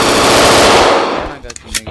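Rapid game gunfire from a Roblox hood-map shootout, a loud dense burst of automatic shots for over a second that thins into a few scattered, fainter pops toward the end.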